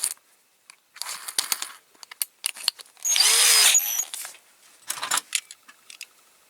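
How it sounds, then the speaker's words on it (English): A power drill with a large bit whirs in short bursts, then runs steadily for about a second, amid clicks and clattering of metal parts from a Corgi Toys Renault 16 model nearby. "What I'm going to do is use the big drill bit"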